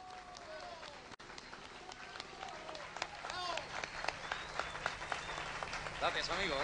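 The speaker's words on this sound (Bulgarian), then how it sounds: "Дами и господа, посрещнете с овации Хуан Рамон." An audience applauding to welcome Juan Ramon, a dense, rising patter of clapping and crowd noise that swells toward the end, with people talking over it.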